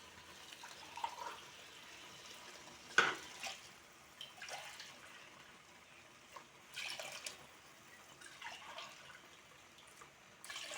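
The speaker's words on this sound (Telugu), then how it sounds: "ఇప్పుడు వాటర్ 4 కప్పులు పోసుకోవాలి." Four cups of water poured into soaked rice in a pot for green chicken biryani, heard as faint, intermittent splashes and trickles in a quiet kitchen, with no talking.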